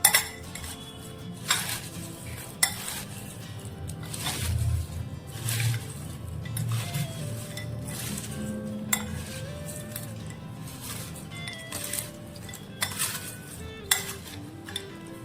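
Metal spoon clinking and scraping around a bowl while chana jor garam snack is mixed with lemon juice and salt, steady stirring with sharp clinks at irregular moments, close and alone.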